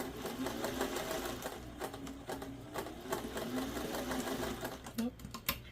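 A sewing machine stitches a quilt block seam, its motor whirring steadily and loudly throughout with a fine rapid needle chatter and only brief dips in pace.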